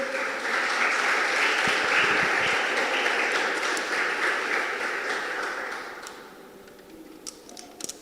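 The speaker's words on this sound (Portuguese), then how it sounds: "Dê um aplauso para o Senhor por isso" Church congregation at a Sunday service bursts into sustained applause for the Lord, dense clapping at full strength for about five seconds before thinning out and fading, with a few scattered claps at the end.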